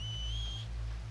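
A single sustained whistle in Red Dead Redemption 2 holds a steady high pitch for about half a second, then cuts off over a constant low rumbling hum, with no talking.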